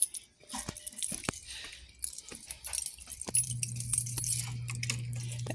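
Noodles with pork, chili powder and sugar sizzle steadily in a hot pan while a utensil scrapes and clacks against it in irregular strokes, close up with no voices.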